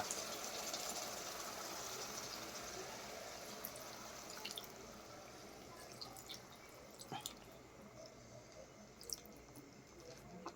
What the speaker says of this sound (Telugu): ఇప్పుడైతే మనం కొద్దిగా వాటర్ అయితే పోసాం